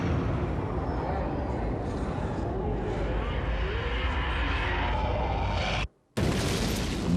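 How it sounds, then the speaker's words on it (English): A deep, sustained roaring rumble of a huge jet of fire erupting in an underground station ticket hall, loud and continuous, cutting out abruptly for a moment before resuming. "Moments later, a huge jet of fire erupts."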